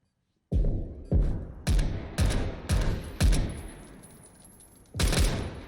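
Gunfire in a tactical shooter video game match, a loud close burst of about six heavy shots with short gaps, each ringing off with a booming tail, then one more shot after a brief pause.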